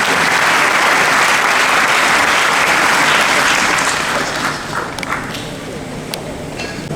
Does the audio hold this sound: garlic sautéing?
no